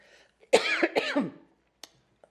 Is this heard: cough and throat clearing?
yes